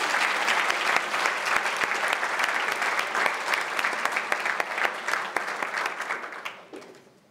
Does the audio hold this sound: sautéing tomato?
no